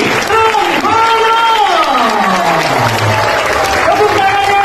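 At a seminar, a crowd applauds steadily and loudly throughout as an amplified voice or music plays over the clapping.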